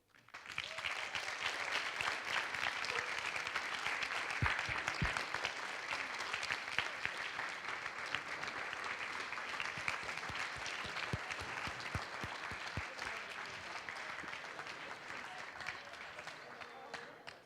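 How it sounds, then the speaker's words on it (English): Sustained applause from a large assembly hall audience at a youth general assembly session in Tallinn, dense and steady for well over ten seconds before fading, with a few louder claps popping out near the mic. "So huge round of applause for the extras to the middle."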